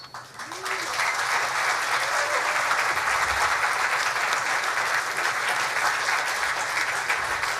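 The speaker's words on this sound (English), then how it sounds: "How about another round of applause for Greg Hayes" Sustained applause from a large crowd at a political event featuring Vice President-elect Mike Pence, starting softly and swelling within a second into a dense, steady roar of clapping.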